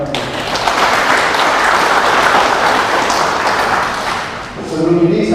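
A crowd applauds loudly and steadily for several seconds, fading briefly before a voice begins speaking at the end.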